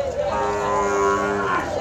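Cattle low in a long, loud, steady moo with strong harmonic tones at an Indonesian livestock market in Jonggol, Bogor, heard close and alone for nearly two seconds.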